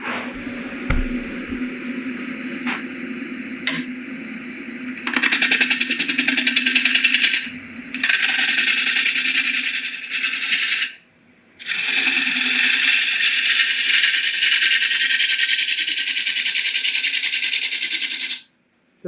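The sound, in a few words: woodturning lathe spinning a bowl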